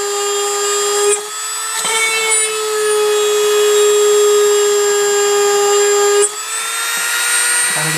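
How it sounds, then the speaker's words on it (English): A small power drill whines steadily while boring pilot holes into a 1:64 scale diecast car, its high tonal hum continuous and close, dipping briefly with short pauses as the bit is worked back and forth. "let's go ahead and get this started and get these pilot holes drilled"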